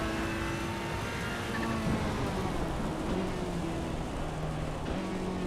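Steady rain hisses over a racing car during a wet race in Assetto Corsa EVO, a continuous broadband wash with low engine tones running underneath, no voices.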